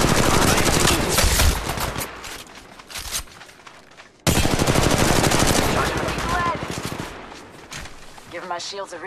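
Rapid automatic gunfire in Apex Legends Mobile, loud close bursts that pause briefly and then resume, with game voice lines over the shooting.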